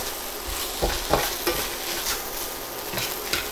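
Bacon, kimchi and rice fry and sizzle in a pan under a constant crackle, with a utensil stirring and scraping through it in scattered knocks, close and moderately loud, without speech.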